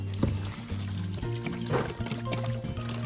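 Anchovy fish sauce pouring steadily into kimchi seasoning, a thin trickling stream, close and fairly quiet, with faint low hum underneath.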